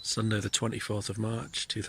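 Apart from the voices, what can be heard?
No everyday noises stand out.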